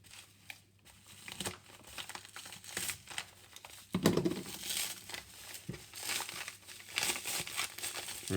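Plastic packaging around a development board crinkles and rustles up close in irregular bursts, with one louder crunching tear midway, unboxed by hand without talk.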